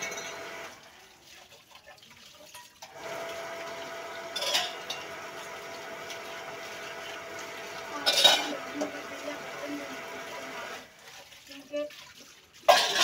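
Dishes and cutlery washed by hand under running water in a village home: a steady tap stream with clattering of utensils, including two louder clinks, fairly close.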